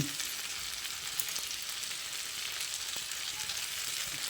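A mixed vegetable curry sizzles steadily in a pan as ghee is added, a soft, even frying hiss with faint stirring clicks.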